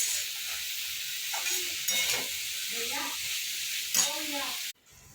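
Vegetables sauté in a pan with a steady, close sizzling hiss, broken by several scraping stirs of a spatula, before the sound cuts off abruptly near the end.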